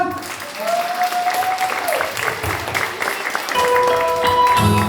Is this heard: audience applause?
yes